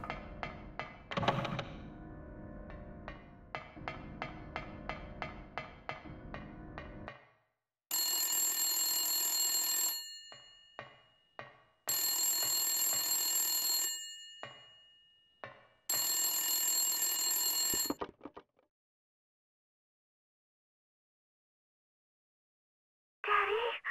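A telephone rings in the PS1 horror game Silent Hill: three long, loud electronic trills separated by pauses, preceded by a string of rhythmic clicks and thumps, with no voices over the ringing.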